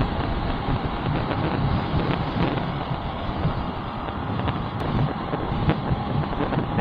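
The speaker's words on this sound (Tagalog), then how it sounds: "Mahirap mag-fishing kapag ganyang malakas yung hangin." Strong wind over the sea at a fishing spot buffets the microphone in a constant roaring rush, loud and unbroken, with faint water-like noise of waves beneath.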